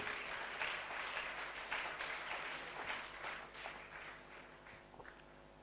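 A church gathering audience claps in a soft, scattered round of applause, heard from a distance and slowly tapering off.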